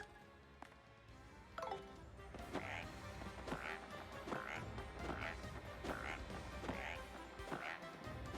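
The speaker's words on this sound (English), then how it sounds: "Changes the sound effects of Mario's attacks to sound froggy." Froggy attack sound effects from the Paper Mario: The Thousand-Year Door video game, a run of about eight evenly spaced croaking, squelchy blurts repeating at a steady rhythm over quiet game background music.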